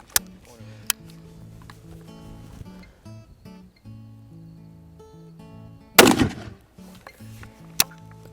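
A 12 gauge smoothbore shotgun fires a homemade black powder round ball slug, 80 grains of powder behind a .69 caliber ball: one loud booming report with a decaying tail late in the clip, plus a few sharp cracks over a steady tonal background.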